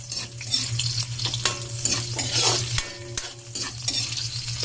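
Ginger, garlic and chili sautéing in a pan, a steady sizzle broken by repeated scraping stirs and clinks of a utensil against the pan.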